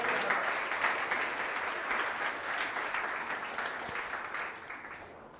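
A church congregation claps steadily and fairly loudly for several seconds, a dense even patter that gradually fades near the end.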